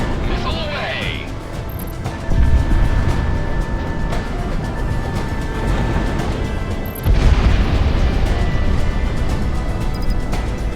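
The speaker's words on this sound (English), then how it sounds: "Missile is on the way. Ground asset destroyed. Missile away." Missile launches and explosions from a flight combat video game, heard as loud, dense rumbling booms with two sharp bursts among steady engine drone and game effects.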